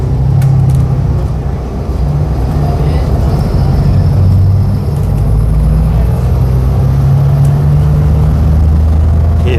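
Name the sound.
city bus engine driving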